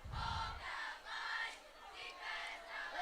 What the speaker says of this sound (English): the cheer is hyping up the crowd for this defensive team on the Bruins side